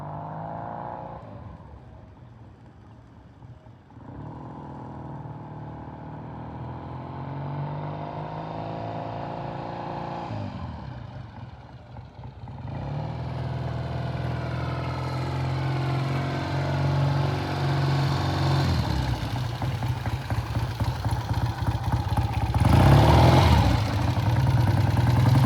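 A 1967 Triumph T120 motorcycle engine runs steadily close by, with brief dips before it picks up again and revs harder near the end.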